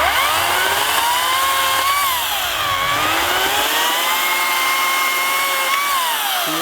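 A battery chainsaw drones steadily while cutting, its pitch sagging and rising again as the motor winds back up to speed under load. The sound is loud and close, with no talk over it.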